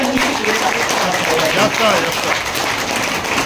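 Loud audience applause greets guests at a gathering in Jabalpur, a dense steady clatter of many hands filling the whole span, with a voice calling out over it.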